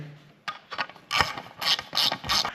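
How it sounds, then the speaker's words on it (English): A ratchet clicks in several quick bursts while bolts are snugged down on a 2019 KTM 450 SX-F Factory Edition, the close mechanical ratcheting coming in short rhythmic runs. "I'll use the ratchet to put these together"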